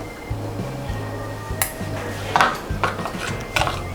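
A spoon clinks and taps against a bowl while tamarind juice, ajwain powder and salt are mixed together, giving irregular bright clinks over quiet background.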